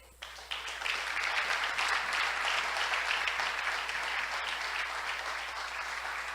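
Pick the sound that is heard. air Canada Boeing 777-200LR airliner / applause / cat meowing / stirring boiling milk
applause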